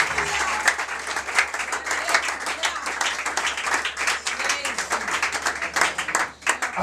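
A church congregation applauds at a pastor's ordination ceremony, with dense, sustained clapping from a large crowd that continues without a break and then dips briefly near the end.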